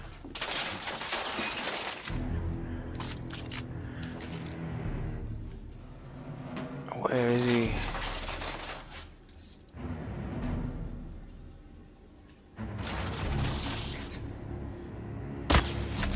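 Gunfire in The Order 1886: sharp broadband shots and clattering, shattering impacts come in bursts between brief lulls across the scene, loud and close.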